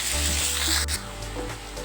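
Fenugreek leaves sizzle loudly in a hot pan while being stirred, a dense bright hiss that shifts as the greens are turned.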